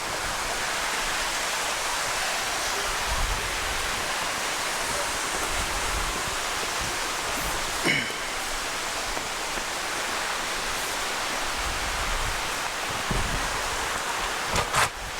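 A steady, full rush of water flows over rocks along a hiking trail at Hanging Rock State Park in North Carolina, filling the scene continuously at close range with no voices.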